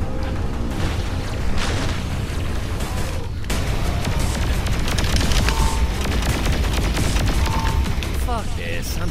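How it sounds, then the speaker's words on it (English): Heavy gunfire in the video game Saints Row IV, a dense, continuous barrage of rapid shots and booms running loud throughout. "There is so much freaking gunfire."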